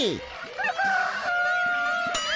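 A jungle fowl calls out in a forest with a loud, close, drawn-out crowing call, accompanied by clucking notes.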